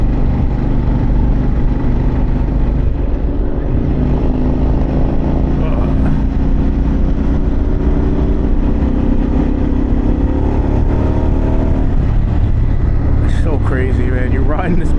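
Harley-Davidson Pan America adventure motorcycle engine running steadily while riding on a mountain road, a continuous loud drone with wind rush, rising toward the end, with a rider's voice talking over it.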